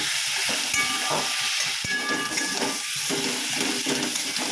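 Tomatoes frying soft in a pan give a steady, close hiss and sizzle with light crackle throughout, a brief clink of a spoon partway through, and no voices.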